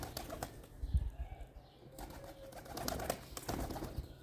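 Pigeons coo softly at close range, with brief bursts of wing flapping breaking in; the sounds are faint and intermittent against a quiet background.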